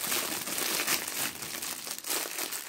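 A small packet crinkles and rustles close to the mic, a continuous crisp crackle with short louder bursts throughout, in an ASMR eating setting, with no voices.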